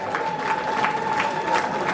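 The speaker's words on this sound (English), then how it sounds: "Vos applaudissements" Gala night audience applauding an honoree: a steady wash of clapping at moderate level, with a thin constant tone running underneath and no speech over it.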